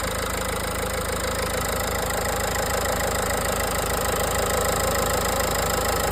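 A small 1.5-litre dCi diesel engine in a Renault Clio 4 idles evenly with a steady, slightly knocking rumble, recorded close up with no talking.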